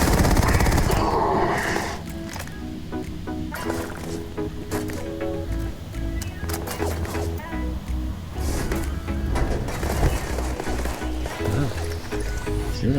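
Acid Rain weapon firing in the Starfield video game: repeated sharp shots in quick bursts over a dense, busy game soundscape, loud and close throughout.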